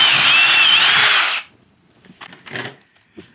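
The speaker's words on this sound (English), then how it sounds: "I'm gonna drill a hole now." A loud power drill whirs steadily for over a second, then stops, followed by a few quiet clunks and handling sounds.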